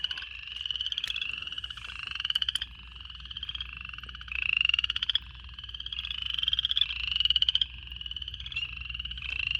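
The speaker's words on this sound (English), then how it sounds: "So these little chorus frogs can be a pain to track down while they're calling" Many small frogs calling at once, rapid creaky trills rising and overlapping in a steady chorus, close by and uninterrupted by talk.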